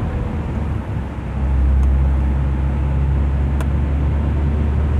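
A sports car's engine swells into a louder, sustained rumble as it pulls away on a busy town street, with a couple of faint sharp clicks over the steady roadway noise and no speech.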